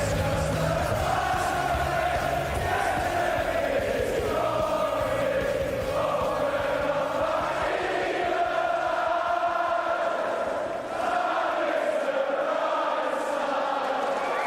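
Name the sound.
darts crowd singing along at World Matchplay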